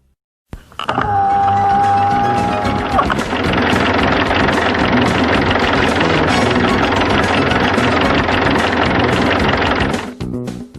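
Car engine starts with a sharp onset and runs at a loud, steady rumbling idle for about ten seconds with rhythmic mechanical ticking, then cuts off abruptly.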